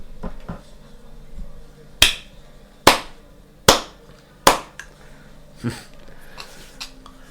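A handful of slow, sharp, separate hand claps ring out close by, about five evenly spaced strikes followed by a softer one, with no crowd around them.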